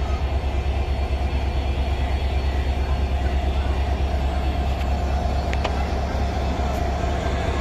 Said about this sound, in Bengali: ট্রেনটি সান্থার রেলওয়ে স্টেশন থেকে ছেড়ে দিল।